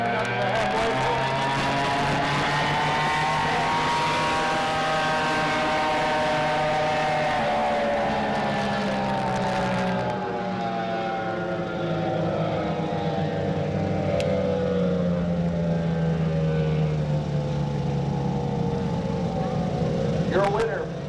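Race boats on a lake course speed past at about 95 mph in a lane race, a loud continuous engine drone whose pitch sweeps down as they go by, with a commentator talking over it.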